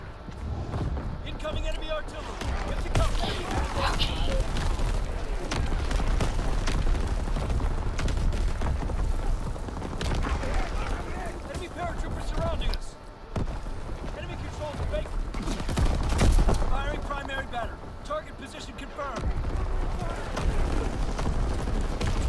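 Gunfire and explosions crackle through a video game sniper battle, a steady dense barrage of shots and booms that fills the whole stretch, with a player talking over the action.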